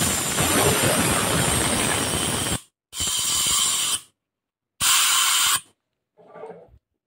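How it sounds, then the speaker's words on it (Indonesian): Compressed air from a compressor blasts into an engine during a fuel and valve compression-leak check, heard as three loud hissing bursts separated by silences, then a fainter short puff. "Kasih BBM dari sini, kemudian semprot pakai kompresor."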